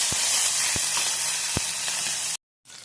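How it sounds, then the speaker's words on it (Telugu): A hot oil tempering of chillies and curry leaves is poured into cooked green gram dal with coconut. It gives a strong continuous hiss and sizzle, with a few dull low knocks, then breaks off briefly before resuming more faintly. "ఇప్పుడు పోపుని పప్పులో వేసుకున్నామండి"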